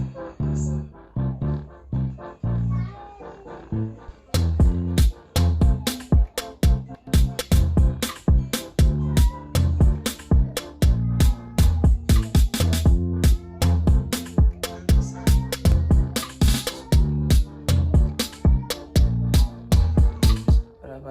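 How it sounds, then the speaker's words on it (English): Programmed beat made in BandLab with punchy drums and a deep bass line, opening with a softer intro before the full groove kicks in with steady, loud, repeating hits. "So with the drum and the bass line sounds like this."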